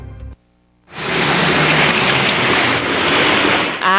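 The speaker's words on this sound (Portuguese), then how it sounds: "olha o tanto de água que entrou com essa chuva aqui" Muddy floodwater from heavy rain pours forcefully into houses beside the MG-050 highway in Divinópolis, a loud, continuous rushing roar that starts abruptly after a short pause and holds steady throughout.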